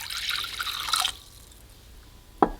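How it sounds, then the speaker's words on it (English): Water running and splashing into a bowl for brining tofu, a steady broadband pour for about a second that stops abruptly, followed by a single small clink near the end. "So in a bowl, I'm going to add in some water."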